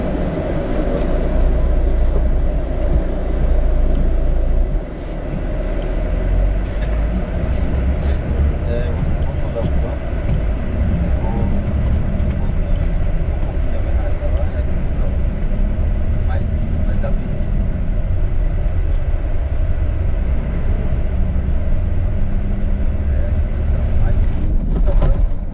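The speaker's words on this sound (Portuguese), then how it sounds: "E a gente já volta a ouvir aí o som do motor roncando de fundo." A car engine hums steadily in the background on a road trip in southern Brazil, a low continuous drone under ongoing talk throughout.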